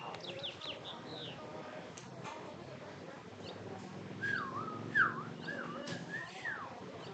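A bird calls near a baseball field during a tournament game, with several short rising whistled chirps over a busy background with voices.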